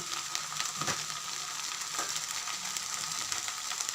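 A steady, bright sizzle of onions sautéing with turmeric, chili powder and curry masala for a chicken dish fills the clip, with a few soft scraping stirs over the hot pan.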